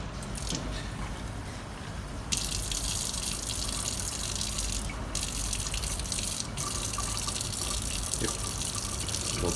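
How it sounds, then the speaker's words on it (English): Water from a sink tap runs steadily and loudly for the whole stretch, a dense continuous splashing gush with no talk over it. "We'll go over to the sink."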